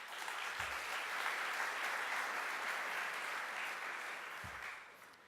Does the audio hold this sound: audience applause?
yes